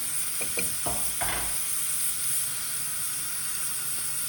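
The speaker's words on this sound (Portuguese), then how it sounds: "como a panela já tá bem quente, olha, eu vou colocar o alho, um dente de alho eu vou colocando" A garlic clove dropped into a very hot pan sizzles, with a few short stirring scrapes early on over a continuous loud hissing fry.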